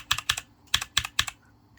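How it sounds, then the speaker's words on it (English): Clicky HyperX mechanical keyboard typed at close range, with sharp, bright keystrokes in small irregular bursts and short pauses between them, alone with no voices. "Clicky keyboard."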